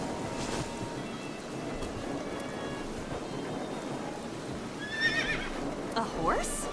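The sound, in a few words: horse neighing in video game AI The Somnium Files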